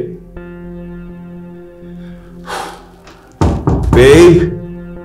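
Knocks and thuds land on a locked door in a quiet indoor space. They come as a few heavy blows in the second half, mixed with breathing and a pleading voice.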